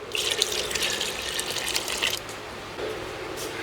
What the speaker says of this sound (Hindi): अभी तकरीबन ½ लीटर इसमें पानी शामिल करेंगे।